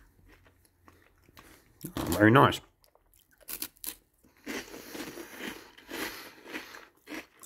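A Co-Op cheese twist, a long baked cheese stick, is bitten with a loud crisp crunch, followed by quieter bursts of chewing, with brief speech in between.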